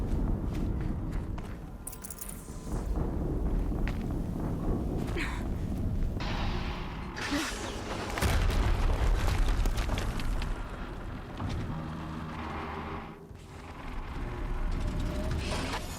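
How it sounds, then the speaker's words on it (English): Explosions and combat noise in the video game Horizon Zero Dawn, with deep rumbling booms, crackling debris and mechanical clatter layered continuously, swelling in several loud bursts. "Another explosion."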